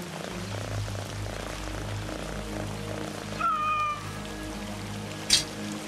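Black cat in Assassin's Creed Mirage giving a brief meow, moderately clear over a steady ambient game background with low hum.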